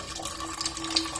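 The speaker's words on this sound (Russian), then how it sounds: "Вода еще плохо что-то стала бежать" Water running from a household tap at a country house in the Kuban, the flow weak and uneven, a steady close hiss with faint splashing and no voices.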